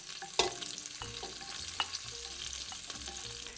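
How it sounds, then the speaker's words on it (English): Garlic, onions and carrots fry in a pot for Maltese kawlata, a soft continuous sizzle with scattered stirring clinks and scrapes, close and fairly quiet, no one speaking. "To my pot, I'm adding some fresh garlic and onions."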